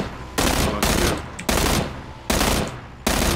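Rapid automatic gunfire in PUBG, loud bursts of shots separated by short pauses, repeating five times in close succession.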